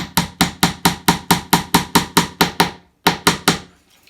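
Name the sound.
pin hammer tapping in pins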